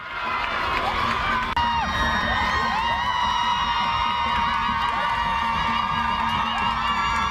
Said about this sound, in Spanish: están manifestándose y aplauden a las mujeres